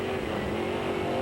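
Late model race cars roar around the Knoxville Raceway dirt track in a continuous loud engine drone with a steady high whine, heard from a distance.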